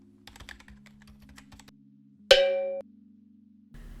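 Rapid keystrokes on a computer keyboard while entering new Japanese vocabulary, light close clicks in uneven bursts, then a brief bright chime-like tone and a soft low hum.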